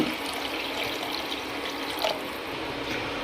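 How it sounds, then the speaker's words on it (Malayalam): Water pours in a steady, continuous rush into a cooking pot for fish curry, a close, even splashing hiss with no voices. "ആവശ്യത്തിനുള്ള വെള്ളം ഒഴിക്കുക അങ്ങനെ നമ്മുടെ വെള്ളം ഒഴിച്ചു"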